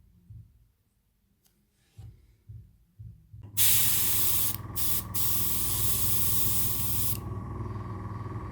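Airbrush spraying Vallejo White Grey paint onto the missile tips of a 1/72 scale SAM-6 model kit, a few faint clicks first, then a loud, steady close hiss lasting several seconds.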